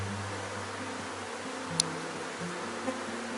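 A honeybee swarm buzzes steadily and close in an apiary, a dense continuous hum with a few faint clicks and rustles.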